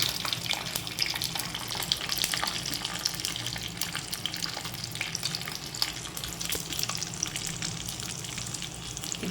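Food fries in a pan, browning on low heat, with a steady crackling sizzle and scattered sharp pops, joined by faint stirring and watery splashes throughout.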